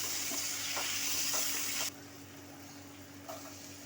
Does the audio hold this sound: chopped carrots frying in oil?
yes